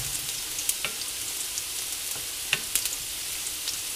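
Finely chopped garlic, four cloves, sizzles gently in oil in a pan, a soft steady fry with scattered small pops and crackles, fairly quiet and with no voices.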